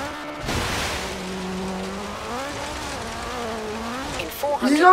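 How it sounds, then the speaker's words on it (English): A car drifts off-road in the Forza Horizon 3 racing game, the engine droning and rising and falling in pitch with a sustained tire squeal, loud and continuous, with a voice speaking over it. "that was off-road drift and it was good"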